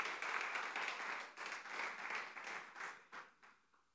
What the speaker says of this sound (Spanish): ¿Alguien puede darle fuerte aplauso al Rey de Reyes?